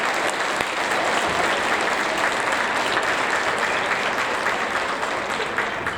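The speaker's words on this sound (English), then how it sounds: "let's give them all a big round of applause for their great work" Steady, full applause from a school audience honoring sixth-grade students at an awards ceremony, dense clapping holding evenly for the whole stretch with no speech over it.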